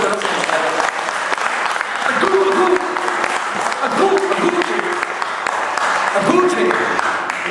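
Church congregation clapping together, continuous applause beneath a voice speaking over it.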